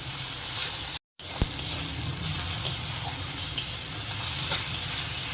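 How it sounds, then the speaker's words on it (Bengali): Ginger garlic paste frying in a pan, a steady close sizzle with a few light stirring taps, one brief dropout near the start, and no one speaking. "তো এই আদা রসুন বাটাটা একটু ভালো করে কষিয়ে নিতে হবে"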